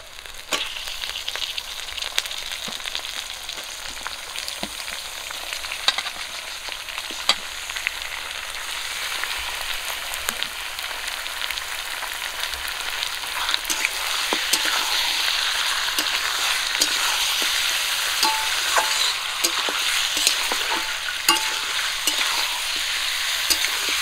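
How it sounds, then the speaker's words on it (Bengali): Washed mutton frying in a pan with browned onions for a Bengali mutton kosha, a steady loud sizzle throughout with occasional scraping stir clicks, growing denser in the second half. "ধুয়ে রাখা মাংস দিয়ে দেবো।"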